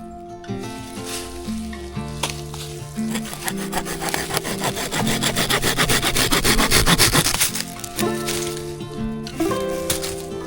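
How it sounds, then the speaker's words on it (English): Woxna folding saw cutting through wood, with steady back-and-forth rasping strokes that build to a fast, loud burst midway before easing off, close up and without talk, while tonal background music plays underneath. "So we'll go ahead and do some more sawing."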